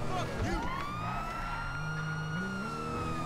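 Police sirens wail and sweep through a GTA V LSPDFR patrol scene, steady and fairly loud under engine noise, with a rising-falling tone sustained throughout.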